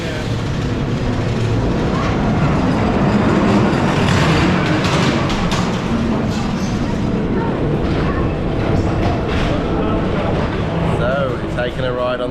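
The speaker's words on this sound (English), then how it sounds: "Taking a ride on the Ghost Train, refurbished for 2024." A Ghost Train dark ride at Blackpool Pleasure Beach, freshly refurbished, rumbles steadily along its track, with rattling car noise and scattered clatters and shrieks filling the whole stretch at close range.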